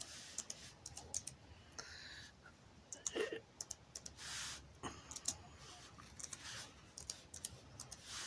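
Keys on a computer keyboard clatter in short, irregular bursts of quick clicks with pauses between them, close and fairly quiet, with no voice over them.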